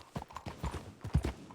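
Horse hooves clip-clop in a few uneven, fairly close strikes, distinct and moderately loud over a quiet background.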